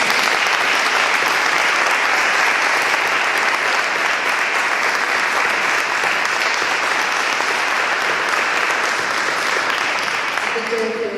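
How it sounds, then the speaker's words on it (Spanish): A seated audience at a book presentation breaks into sustained applause, a dense, steady wash of clapping filling the room for over ten seconds, loud and continuous without talk. "yo les voy a pedir un aplauso para nuestra protagonista de hoy"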